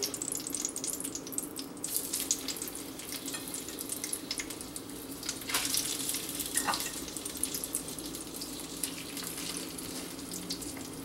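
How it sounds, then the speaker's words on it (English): Fish frying in hot oil in a pan: a steady, close hiss and sizzle with irregular spitting crackles and pops throughout, no talking. "once your oil is hot, you can just place the fish right in"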